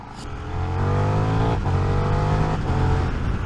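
A KTM 1390 Super Duke R motorcycle rides along the Atlantic Highway in Devon and Cornwall, its engine droning loud and close, rising through gears with brief dips between shifts.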